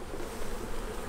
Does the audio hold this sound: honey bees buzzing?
yes